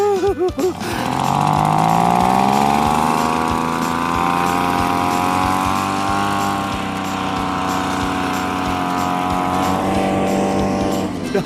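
A high-pitched motor whines steadily, its pitch rising at the start then holding as a loud, continuous blowing drone.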